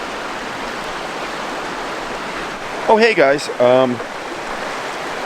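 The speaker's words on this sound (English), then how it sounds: "Sitting here by this raging little river." A small, fast-flowing river rushes steadily at a campsite, a constant loud broadband roar throughout, with a man briefly greeting over it partway through.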